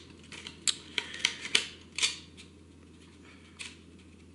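Paper being fed into a typewriter: a series of short, crisp clicks and rattles from the platen and paper feed, clustered in the first two seconds, then a pause and a couple of isolated clicks near the end.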